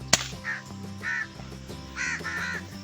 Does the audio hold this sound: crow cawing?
yes